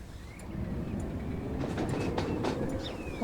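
A low rumbling train in the video game Transport Fever 2 runs steadily with faint rail clatter and occasional high squeals, fairly quiet and continuous, its sound glitched and wrong.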